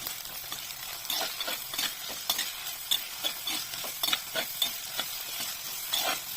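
Coconut pieces, split shallots, green chillies and curry leaves sauté for a prawn curry, with a soft sizzle under regular scraping strokes from the stirring utensil.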